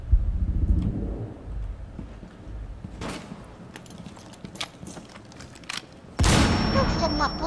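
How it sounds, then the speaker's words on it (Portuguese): Gunfire and explosive booms in a Rainbow Six Siege match, a steady rumbling barrage with sharp bursts around three seconds and a loud blast near six seconds, heard under game noise and some talk. "tô levando tiro aqui pra caralho, nem sei de onde tive"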